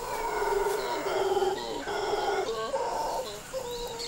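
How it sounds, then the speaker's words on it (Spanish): Howler monkeys roar at dawn in the forest of Los Llanos, a dense, continuous chorus of overlapping howls and cries that hold steady without pause, several animals calling back and forth across territory. "la mata se despereza al amanecer y lo hace con los gritos de los monos aulladores"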